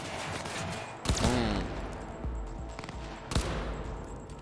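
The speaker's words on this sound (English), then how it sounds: "I think he's shooting into the cover that he's behind" Gunfire in the video game Cyberpunk 2077, with an enemy firing into cover: two sharp bursts ring out about two seconds apart over a low, rumbling in-game background.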